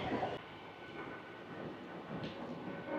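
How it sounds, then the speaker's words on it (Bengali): An Amghata–Krishnanagar local train rumbles into Krishnanagar station, heard from on board as a steady, loud mechanical roar with faint rattling through the carriage. "দেখতে পাচ্ছেন ফাইনালি আমরা কৃষ্ণনগর স্টেশন ঢুকছি।"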